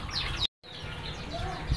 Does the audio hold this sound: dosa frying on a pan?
no